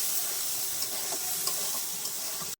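Spice paste frying in a pan with cashew and melon seed paste stirred in, a continuous bright sizzle and steamy hiss broken by a few soft scraping stirs, close and steady until it cuts off.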